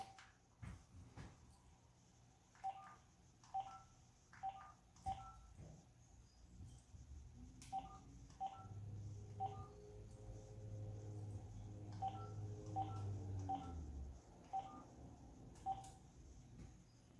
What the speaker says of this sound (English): So I'm going to call now the state plant regulatory official